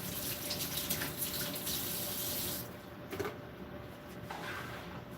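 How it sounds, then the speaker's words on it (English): A tap runs into a sink while a child's hand is washed under it, a steady close splashing rush that cuts off partway through, leaving a few faint drips and taps. "Let me wash that hand again."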